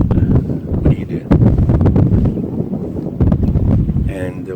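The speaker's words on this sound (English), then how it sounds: "it's a little windy. I can feel the wind, and it's blowing right into my face." Wind gusts roar across the microphone while kayaking on Cedar Lake in Minnesota, loud and continuous with sharp buffeting bursts, and a person talks over it.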